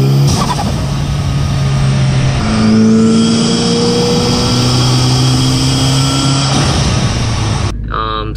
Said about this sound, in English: It had a turbo muffler delete.